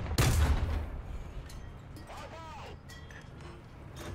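Video game gunfire opens with a loud close burst, followed by fainter scattered shots. A voice speaks briefly partway through.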